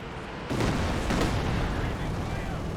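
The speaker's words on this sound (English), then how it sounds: "Right now, we have a Katusha hitting the mortar." A Katyusha rocket artillery barrage strikes in the strategy game Company of Heroes 2, a sudden loud rumbling burst that keeps roaring steadily for several seconds.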